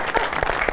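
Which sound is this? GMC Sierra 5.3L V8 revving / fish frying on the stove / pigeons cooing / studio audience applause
studio audience applause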